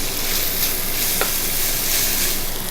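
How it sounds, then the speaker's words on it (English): Onions, ginger and garlic sauté in a hot pan, giving a steady, close, bright sizzle with a brief stir scrape partway through and no talk. "I'm going to saute this again for another 3 minutes"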